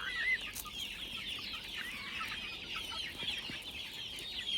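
A flock of about 200 farm chickens clucks constantly at feeding time, a dense, even chorus of many birds at moderate distance with no talking.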